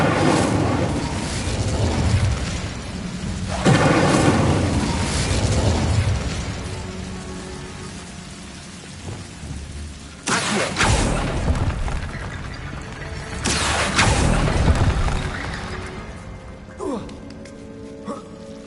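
Fiery Incendio spell blasts from Hogwarts Legacy, several whooshing bursts of flame spaced through the stretch, loud and close, with a spell name voiced alongside the casting.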